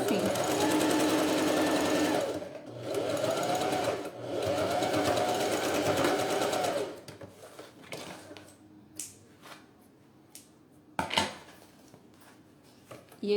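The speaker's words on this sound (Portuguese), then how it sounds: "vou costurar com um pezinho, arrematando no início e no fim" Sewing machine stitching a synthetic leather wallet with a presser foot, running in three steady bursts for about seven seconds, then falling quiet with scattered handling clicks and thumps.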